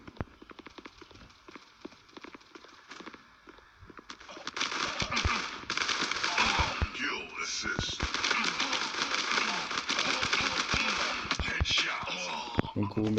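The Azimuth gun in the game Gun of Boom fires in a rapid, dense, continuous burst that grows louder after a few seconds, with someone talking over the gunfire.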